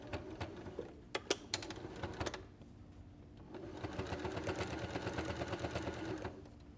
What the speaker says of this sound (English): run this through the machine again to trap those layers of fabric against the hat.